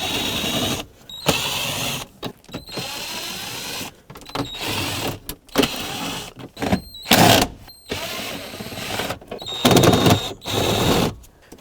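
A powered driver spins out the T25 bolts around the glove box of a 2001-2007 Volvo V70, in repeated whirring bursts of a second or so, separated by brief silent gaps, close and clear.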